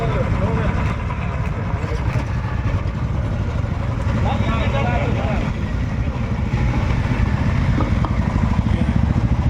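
Motorcycles in a bike rally roll slowly past one after another, a steady low engine rumble filling the whole stretch while a person speaks over the noise.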